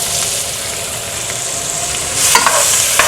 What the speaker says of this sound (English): we're gonna saute these down to almost a caramelized fashion